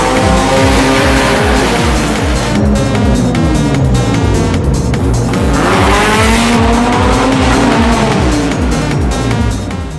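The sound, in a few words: Honda Civic drag race cars accelerating, tires squealing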